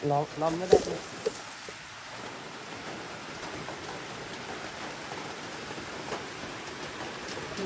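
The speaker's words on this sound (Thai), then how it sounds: "ฝนหยดแล้วนะ" Rain falling on a roof, a steady soft hiss of drops that continues throughout, with a few brief knocks and a short voice-like sound near the start.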